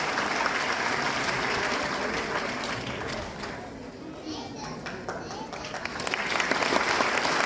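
Crowd at a Guru Purnima devotional program applauds after bhajan songs, a dense continuous wash of clapping that dips slightly midway then swells again, with some children's voices mixed in.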